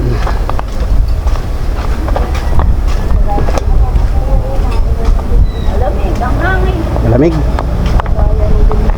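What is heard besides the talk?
strong wind blowing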